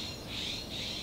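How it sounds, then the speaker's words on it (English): Loud birds call and squawk outdoors, a shrill bright chatter in two swelling bursts over steady ambient noise, with no talk. "Really loud birds."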